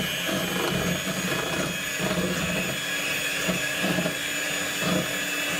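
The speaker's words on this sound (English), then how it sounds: "1/4 of this, and you just need to whisk it in." Ingredients are whisked into a milk tart filling, a steady close whirring wash with soft rhythmic stroke pulses about once a second.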